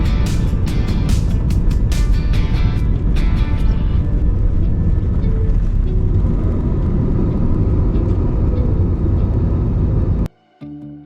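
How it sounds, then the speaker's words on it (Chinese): Thai Smile Airways A320-200 airliner taking off, heard from inside the cabin as a heavy, steady engine rumble with a few sharp clicks early on. The sound stays loud and continuous for about ten seconds, then cuts away abruptly. "我们终于要起飞了。"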